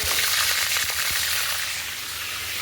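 French fries frying in hot oil give a steady, close hiss and crackle with a few sharper pops early on, easing slightly as it continues, no voices.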